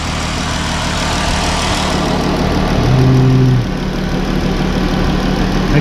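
Dodge Durango engine idling steadily with a low, even mechanical hum and faint ticking, uninterrupted and close, with no voices over it.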